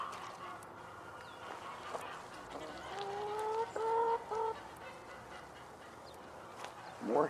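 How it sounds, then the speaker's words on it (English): Hens clucking on a farm, several birds making short rising calls in bursts around the middle of the clip, fairly faint and distant against steady outdoor background noise. "More hens. They have more hens in backup."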